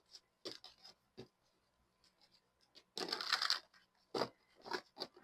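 A tarot deck shuffled up close, scattered crisp card flicks that build into a dense riffling burst midway, then a few more brisk shuffles, with no voices.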